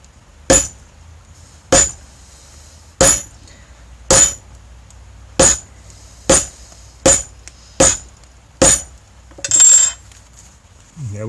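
A rivet setter is hammered on a leather cellphone pouch, about nine sharp, loud metallic strikes spaced roughly a second apart, each ringing briefly, then a longer scraping clatter.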